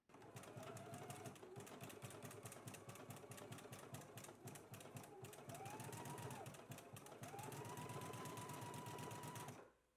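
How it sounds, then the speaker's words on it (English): A sewing machine runs steadily for nearly ten seconds, joining the facing pieces of a DVF x Vogue V2060 wrap dress, with a continuous rapid needle chatter and a faint motor whine. "let's go ahead and stitch our facings together now"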